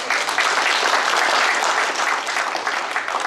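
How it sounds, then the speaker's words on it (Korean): Dense, steady applause from an audience at a formal signing ceremony for restoring a Confucian academy, filling the whole moment without any voices on top. "박수 한번"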